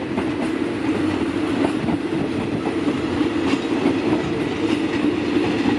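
A long train pulled by two locomotives passes on a curve near Bang Sue in Bangkok, giving a loud continuous rolling rumble with steady clickety-clack of wheels on track joints, close by and without talk.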